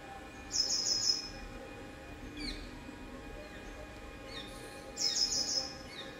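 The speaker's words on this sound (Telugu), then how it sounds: "మరి రామచిలుకలు చూడండి" Shrill, high chirping calls of rose-ringed parakeets in a mangrove tree come in two short bursts, with fainter chirps between them over a quiet outdoor background.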